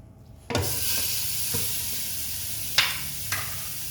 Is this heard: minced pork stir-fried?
yes